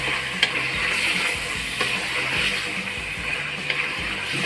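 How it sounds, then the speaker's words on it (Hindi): A spoon stirring spices with coriander, turmeric and salt frying in oil for a desi pulao, a steady sizzle under scattered scraping clinks from the spoon, close and fairly loud, with no talking. "फिर अब इसको चम्मच चलाएंगे और इसको थोड़ा सा फ्राई"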